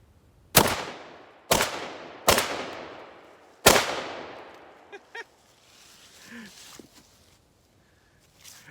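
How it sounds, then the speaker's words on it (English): Remington Tac-13 pump shotgun firing at pumpkins outdoors, four loud booming shots with long echoing decays at uneven intervals, followed by faint pump-action clicks and handling noise. "we're gonna fold out the brace and have some more fun on these pumpkins. This Tac-13 is a lot of fun to shoot."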